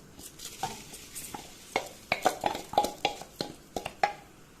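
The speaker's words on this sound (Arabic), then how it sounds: "هنشوحهم كلهم مع بعضهم تشويحه كده بسيطه" Rice being stirred and sautéed in a pot with cinnamon, cardamom and dried lime, a spoon scraping and knocking against the metal in irregular close strokes over a faint sizzle.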